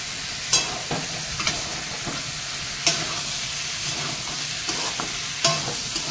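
Chopped tomato and green chillies fry in a pan for a pea ghugni, giving a steady soft sizzle broken by repeated scraping stirs of a utensil, close and with no voices.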